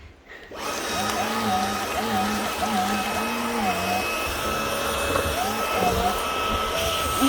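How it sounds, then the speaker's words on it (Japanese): A vacuum cleaner switches on and runs with a loud, steady whine and hum close by, while a person talks intermittently over the motor. "掃除機かけるからどいて。"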